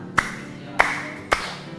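A classroom of students claps in unison three times, each sharp collective clap spaced about half a second apart, with a brief ringing decay after each.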